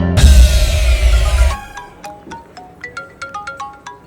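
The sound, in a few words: phone ringing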